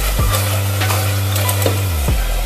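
Ginger paste hits a hot pan for a chicken stew and sizzles loudly and steadily up close, with a low stirring hum and a few scraping taps of a spoon, and no talking.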